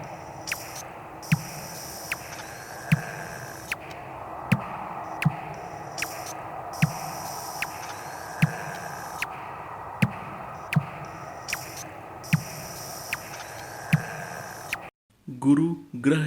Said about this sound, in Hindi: पृथ्वी की आवाज़।